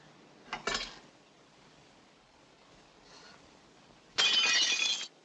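Glass shattering inside a room in an old noir mystery film, a sharp crash near the start and a louder, bright burst of breaking glass lasting about a second near the end, with quiet in between.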